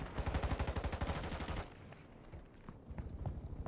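AK rifle fire in Modern Warfare 2, a fast automatic burst of evenly spaced shots for about a second and a half, then quieter scattered distant shots and movement.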